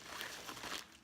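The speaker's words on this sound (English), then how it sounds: "we are going to open this with some scissors" Close, steady crinkling and rustling of a mailed package being cut open with scissors, dense papery texture throughout with a brief sharper snip near the end.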